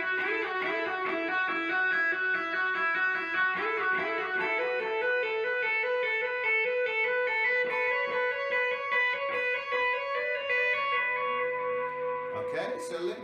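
Electric guitar lead part played with effects such as delay, reverb and chorus, with a steady melodic line of hammer-ons and pull-offs that rings on, ending with a brief handling noise.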